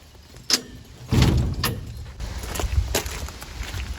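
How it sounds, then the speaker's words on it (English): A door is shut on a farm with a soft thud followed by a few faint clunks and rattles over a low background rumble. "I'm gonna shut the door."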